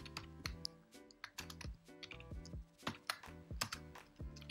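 Rapid, uneven clacking of computer keyboard keys as code is typed into an editor, close and crisp in bursts of keystrokes with brief pauses, over a low tonal hum.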